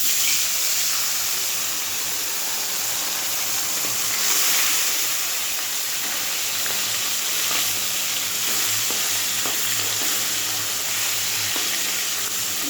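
Food fries in a pan of oil already used for frying fish, giving a continuous, even sizzle with soft bubbling throughout and no talking.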